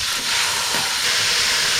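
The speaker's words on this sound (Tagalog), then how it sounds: "Igisa lang natin yung bawang at saka sibuyas. Sunod natin yung pork." Pork being sautéed with garlic and onion in a pan for bihon noodles, a loud continuous hiss of steam and sizzle close to the ear, no talk.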